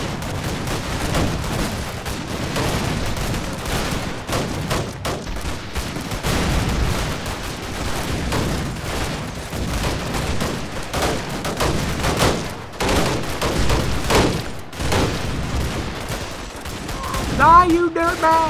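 Gunfire in a World War I video game, dense continuous volleys of rifle and machine gun shots with occasional heavier booms, loud and busy throughout, with voices faintly mixed in near the end.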